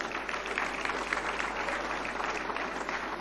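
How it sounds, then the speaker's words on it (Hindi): Applause at a national film awards ceremony, a fairly faint but continuous patter of many hands clapping evenly throughout, with no talking over it. "स्वर्गीय श्री सचिदानंदन के आर जी के सम्मान स्वरूप जोरदार तालियां"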